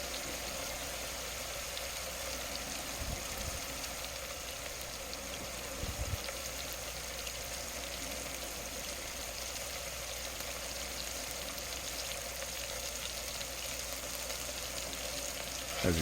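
Lamb meat browning in the bottom of a stew pot, giving a steady, soft sizzle and crackle throughout with faint occasional low knocks.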